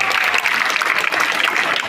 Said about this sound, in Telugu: Claps గట్టిగా.